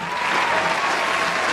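A crowd at a boxing-match round finale claps steadily, a thick, even patter of many hands sustained throughout.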